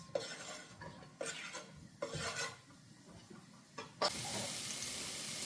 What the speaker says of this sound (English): Now add olive oil in a pot, just a tiny bit, just to saute the onions.